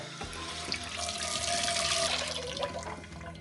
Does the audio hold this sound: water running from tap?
yes